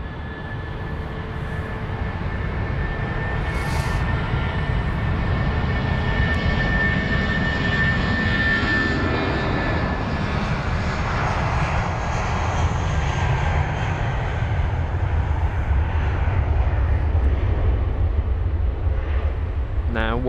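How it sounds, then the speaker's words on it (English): An Airbus A380 jet departs and climbs out of London Heathrow, producing a loud, continuous engine roar with a deep rumble that holds steady for the full twenty seconds before beginning to fade. "I'll probably watch this A380 climb for quite some time."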